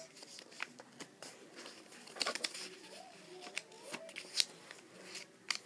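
Paper crinkles and rustles up close as it is folded, with soft creases and crisp scraping sounds as sheets are handled and pressed, scattered through quiet.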